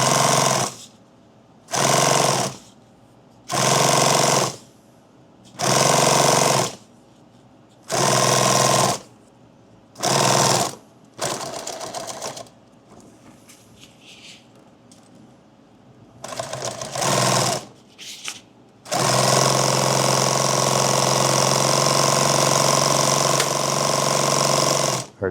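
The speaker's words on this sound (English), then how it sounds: "Now that bobbin's winding." Sewing machine winding a bobbin while a laptop bag is built, with loud buzzing bursts in an even stop-start rhythm, a quieter gap, then a long continuous whirring run close by.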